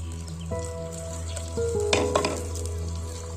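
Oil sizzles and crackles in a pan up close as it heats for tempering, with a few metallic clinks and a low steady hum underneath.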